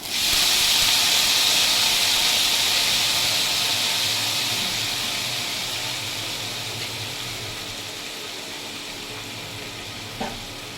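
Chopped kalai greens hit hot oil with a loud, steady sizzle and steam hiss that slowly eases over time, with faint stirring scrapes and a single clink near the end.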